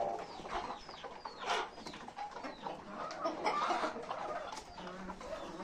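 A rooster and hens cluck and chatter inside a chicken coop, with overlapping, uneven calls that sound close by but fairly quiet, and no talking.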